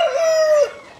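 At a poultry breeder's farm keeping Australorp hens, a rooster crows once, close and loud, its call sliding slightly before cutting off.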